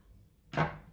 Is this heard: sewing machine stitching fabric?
no